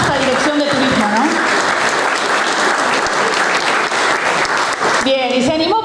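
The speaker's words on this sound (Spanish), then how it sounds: "yo les pido un aplauso a Bianca" Loud sustained applause from a conference audience at a regional rural tourism meeting, dense clapping filling the room with a voice speaking over it and a brief shift near the end.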